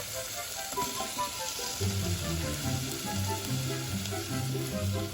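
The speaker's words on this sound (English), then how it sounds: "dice your onion and cook this down in some oil with a little bit of salt" Diced onion sizzles steadily in hot oil with a little salt, a continuous crackling fry heard close up, with faint background music underneath.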